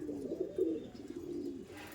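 A pigeon of a famous Kolkata show line, Andhra Kalanka type, gives a low, steady cooing close by, rising slightly in the middle, with no talking over it.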